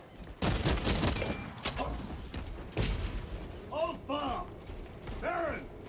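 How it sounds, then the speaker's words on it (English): Rapid gunfire from a Warhammer 40K Space Marine 2 game, dense mechanical bursts and clattering shots up front, then quieter with whooshing effects, with someone talking over it. "I can shoot their bullets with my bullets, like John Wick style"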